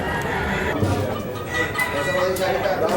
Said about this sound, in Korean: All those roosters you see in the cages, they're trained.